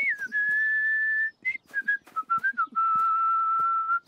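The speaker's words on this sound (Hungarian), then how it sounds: "Paula doboz nélkül is tud fütyülni." A cartoon character whistles a simple tune without a can, in clear, loud, close notes: a long held tone, a run of short chirps, then another long tone.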